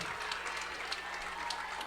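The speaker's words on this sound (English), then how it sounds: "Now the crowd gets into it." A football game crowd cheers and claps in a brief, distant, steady burst of applause from the stands.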